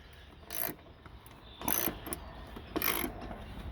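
Bolts on a 2014 Kia Cadenza Limited are tightened by hand during HID headlight replacement: three short ratcheting bursts, close and moderately loud, separated by quiet pauses.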